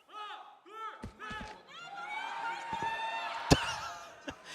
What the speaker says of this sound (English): I'm just listening to the fans just lose their mind.